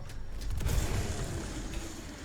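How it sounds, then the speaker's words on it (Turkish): A deep, rumbling bomb explosion in Resident Evil 4 Remake, loud and sustained with a low roar that lingers for a couple of seconds. "Bomba tam zamanında patladı yalnız."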